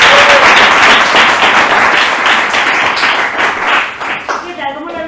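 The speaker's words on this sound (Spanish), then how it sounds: "un aplauso para él" Applause rises from a theatre-forum audience at a gender and theatre gathering in Miraflores de la Sierra, dense steady clapping throughout that fades toward the end as a voice begins.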